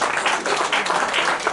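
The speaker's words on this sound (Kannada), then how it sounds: "ಇನ್ನೊಮ್ಮೆ ಜೋರಾದ ಚಪ್ಪಾಳೆ ಬರಲಿ ಈ ಒಂದು" Audience applause at an anniversary celebration event, a steady dense wash of clapping that continues without a break for its whole short length.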